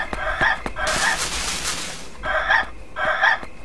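Chickens in the horror video game Yomawari Night Alone cluck and squawk in several loud bursts, with a longer harsh noisy squawk in between, close and alone without talk.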